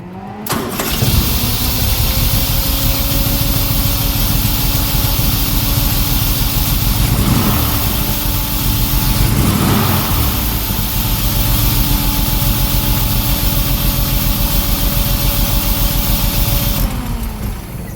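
A 1938 SS Jaguar 3.8 drophead with a reconditioned water pump and new belt cranks and fires up, then settles into a steady, loud, close idle that runs for about fifteen seconds before cutting off.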